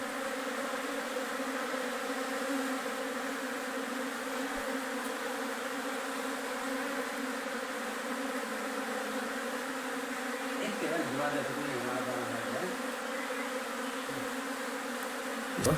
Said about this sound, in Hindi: फिर एंट्रेंस के पास इस तरह से मधुमक्खियों को छोड़ेंगे, तो खुद ही मधुमक्खियाँ रास्ता ढूंढ लेगी अपने हाइव का